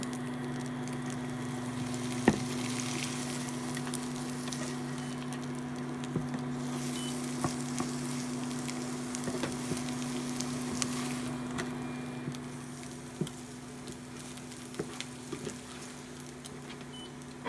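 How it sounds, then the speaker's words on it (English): Liquid egg sizzling as it cooks in a frying pan, a steady close crackle with scattered pops and soft patter, fading a little toward the end, no talking. "you can hear it actually sizzling, but it's starting to turn into a solid"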